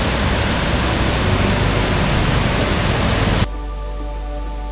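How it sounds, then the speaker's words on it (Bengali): A waterfall in Meghalaya, heard from close by, gives a loud, steady, full roar of rushing water that cuts off abruptly near the end, leaving a much quieter background. "ওইখানে যত কাছে যাচ্ছিলাম ঝর্ণার শব্দ ততই প্রকোপ হচ্ছিল"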